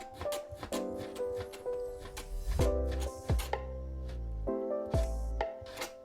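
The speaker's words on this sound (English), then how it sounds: "Then we cut across the grain of the meat. We cut it into small slices." A knife slices pork across the grain into small slices on a cutting board, giving a series of soft, irregular chopping thuds over a steady musical backing track.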